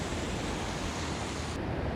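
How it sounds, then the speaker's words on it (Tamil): Water runs down a series of small natural waterfalls at Aruvikarai in Kanyakumari, Tamil Nadu, a dense, even rush of broadband noise that stays steady and close for two seconds, with no voices. "தண்ணி குட்டி அருவி அருவியாக ஓடிட்டுருக்குங்க"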